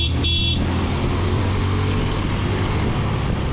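Continuous vehicle engine and road noise on an uphill stretch of a Dhaka to Sajek route as a car tries to overtake motorbikes, loud and steady throughout, with a brief horn-like tone near the start.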